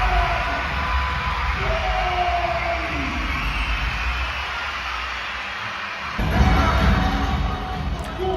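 A large crowd of thousands of children screams and yells in a stadium during a Chicago Sky basketball game, a dense, loud, continuous roar that swells louder near the end.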